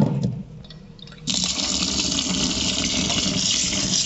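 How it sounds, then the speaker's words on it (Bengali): Basmati rice is washed in water: a faucet-like rush pours steadily and loudly, with softer sloshing just before it starts. "চালটা আমি ধুয়ে নেব,"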